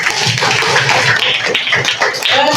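A class of students in a classroom lesson bursts into loud, dense clapping that continues without a break for a couple of seconds.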